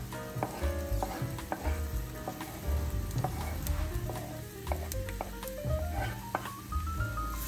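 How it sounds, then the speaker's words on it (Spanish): Chopped onion, green pepper and garlic frying in olive oil, with a loud, dense, continuous sizzle close up and occasional stirring scrapes throughout. "Vamos a sofreír un poco estos vegetales en el aceite de oliva."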